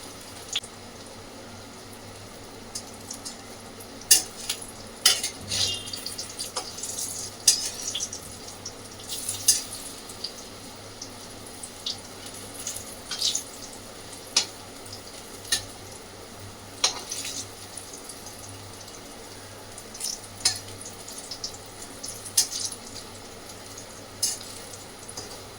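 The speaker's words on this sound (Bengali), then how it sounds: "হালকাই ভাজবে বেগুনটা" Eggplant slices frying lightly in a pan, a soft steady sizzle with scattered crackles and occasional clinks of a utensil against the pan, close and fairly quiet with no talking.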